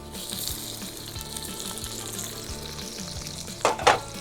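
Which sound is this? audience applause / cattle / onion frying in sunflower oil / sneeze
onion frying in sunflower oil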